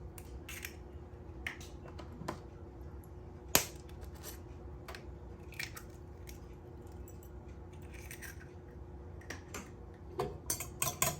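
Egg is beaten in a bowl for mussel and egg fried rice. Sparse, light clicks and taps of a utensil against the bowl are heard over a low steady hum, growing busier and quicker toward the end.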